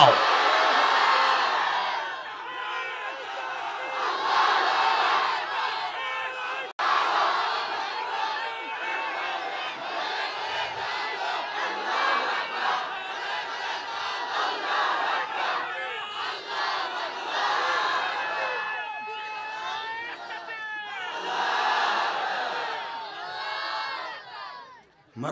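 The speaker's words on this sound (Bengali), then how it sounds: "আল্লাহকে একবার হাত উঁচা করে তাকবীর ধ্বনি দিয়ে দেখাই দাও" A large crowd at a religious rally chants takbir with raised hands, a loud mass of voices shouting in repeated waves across the whole stretch, with some overlapping chatter between the chants.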